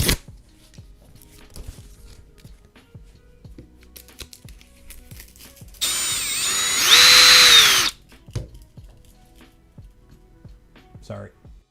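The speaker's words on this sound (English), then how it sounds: "or you chuck them in a drill and sandpaper them." A power drill spins a shaft wrapped in sandpaper during a 3D-printer build, giving a loud two-second whine that rises in pitch, set among quiet clicks and handling noises.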